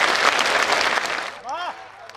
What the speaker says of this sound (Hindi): कमजोर है तालियां आपकी